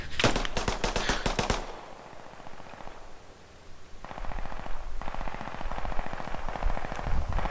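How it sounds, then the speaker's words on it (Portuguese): Automatic gunfire in an online shooter, fired straight up into the air: a dense rapid burst at the start, then a pause and further sustained rattling bursts, loud and close. "Vou dar um tiro pra cima."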